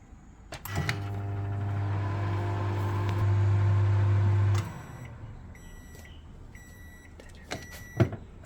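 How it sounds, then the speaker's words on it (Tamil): A microwave oven cooks a mug cake, its door shutting with a thunk before a steady low electric hum runs for several seconds and stops, followed by a series of short beeps. "மைக்ரோவேவில் ஒரு 2 நிமிடங்கள் வைக்க போகிறோம்"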